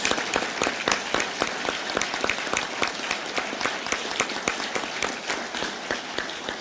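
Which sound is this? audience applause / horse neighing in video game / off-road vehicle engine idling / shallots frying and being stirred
audience applause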